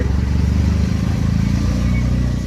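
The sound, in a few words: auto rickshaw riding in traffic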